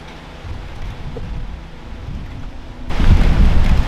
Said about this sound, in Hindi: ये जी बारिश लग पड़ी है